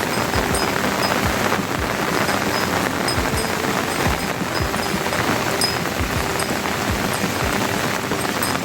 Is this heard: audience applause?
no